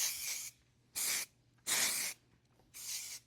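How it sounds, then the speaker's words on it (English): Redken Spray Smooth mists onto hair in four short, soft spray bursts with brief pauses between them, close and fairly quiet, with no talking. "I'm going to go in using the Redken Spray Smooth"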